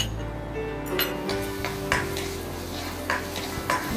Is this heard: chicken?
no